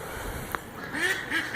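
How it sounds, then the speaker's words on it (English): A flock of about fifty ducks kept for eggs quacks in a few short, repeated bursts at moderate distance over a steady outdoor background. "there's the 50 ducks"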